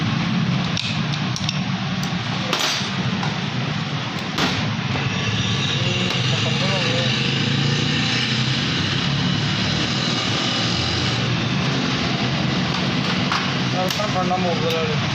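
A Suzuki Cultus three-cylinder car engine idles roughly and misfires from a missing plug and a butterfly fault. It makes a loud, steady, close-up mechanical roar for the whole stretch, with faint voices underneath.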